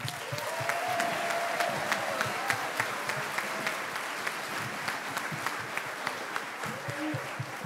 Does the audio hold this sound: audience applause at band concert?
yes